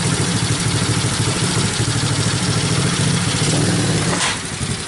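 A free Chinese four-wheeler ATV engine runs loud and close, a steady rough mid-pitched idle that holds evenly and dips slightly near the end.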